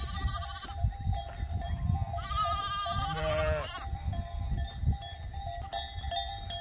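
A lamb bleats loudly and close by, one long wavering cry calling for its mother amid a flock of sheep outdoors, with other faint bleats and rustling around it.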